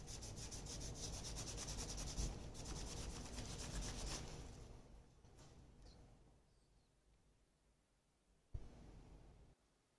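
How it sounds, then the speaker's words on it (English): Steel wool scrubs the metal front of a 1946 Zenith Model 6D030 radio, a steady close rasping rub that fades out over the second half, ending with a brief knock. "So I had to break out the steel wool to go over it"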